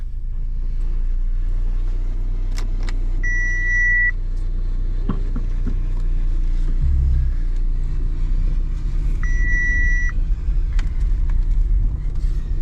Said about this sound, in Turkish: Bir tur atalım şimdi arabayla.